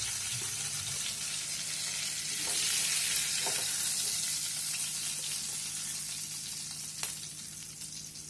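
Katla fish head frying in hot oil in a pan, a steady close sizzle with bubbling crackle and a few light clicks, no talking.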